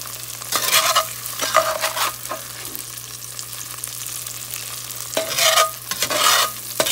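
Battered green tomato slices frying in hot oil, a loud close sizzle that swells in bursts as pieces are moved and turned, over a low steady hum.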